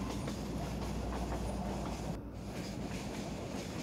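A passenger train on the Dhaka to Sylhet route rumbles along steadily, heard from inside a carriage as a loud continuous roar with faint rhythmic rail clatter and a brief dip midway.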